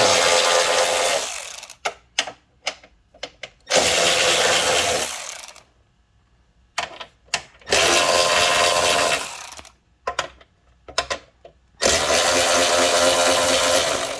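Power tool bursts driving out 8 mm bolts on a KTM 790/890 Adventure R during an oil and filter change: several long, loud whirring runs broken by short ratchet-like clicks and pauses, close up, with no talk.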